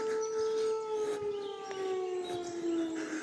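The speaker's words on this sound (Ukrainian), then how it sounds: "А це відбій повітряної тривоги, це не тривога." An air raid all-clear siren in a resort park in Truskavets, a steady, distant wailing tone that holds and slowly glides lower, heard outdoors with faint background noise.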